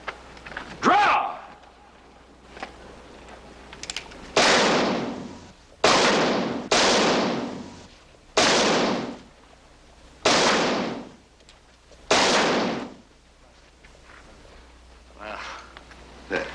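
Pistol shots fired at bottles during an old western shooting contest ring out as about seven loud, sharp cracks spaced a second or two apart, each with a short echoing tail, separated by quiet gaps.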